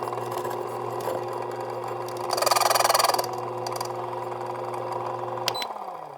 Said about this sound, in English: Let's do initially just dry, starting grinders.